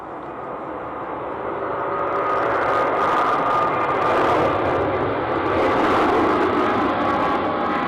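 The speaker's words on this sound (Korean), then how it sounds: "두 대의 비행기가 정확히 같은 시간에 같은 활주로에서 이륙과 착륙을 동시에" Steady jet aircraft engine roar swelling louder over several seconds, a broad continuous rush with no talking.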